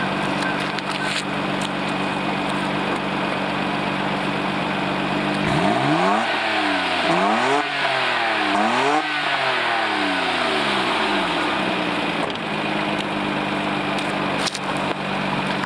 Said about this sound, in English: Give you a exhaust rev here